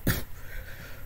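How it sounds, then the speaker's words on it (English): A single short, harsh cough burst right up close, quickly fading into quiet room tone with faint background hiss. "sorry guys, I'm still coughing a lot"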